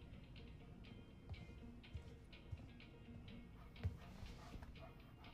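A stray puppy in the video game Life is Strange 2 whimpers quietly. Faint, short dog yips and soft ticking sounds come at irregular intervals over a low, quiet background.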